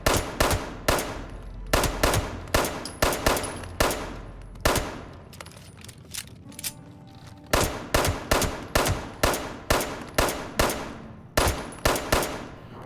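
Rapid bursts of automatic gunfire from Fallout 76, loud and close, with sharp repeated shots in quick strings, a brief pause mid-way, then steady rhythmic firing resumes.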